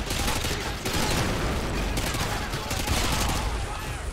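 Rapid gunfire fills a Call of Duty: Modern Warfare Remastered match as dense, continuous bursts of shots and explosions, loud throughout without pause.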